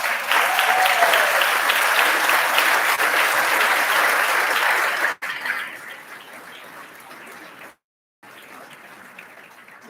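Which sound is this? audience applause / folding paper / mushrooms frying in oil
audience applause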